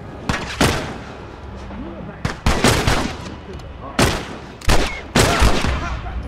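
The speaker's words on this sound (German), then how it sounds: "Oh, netter Schuss." Gunshots in The Last of Us, a series of loud close bursts, some single and some in quick clusters, with echoing tails and brief gaps between them.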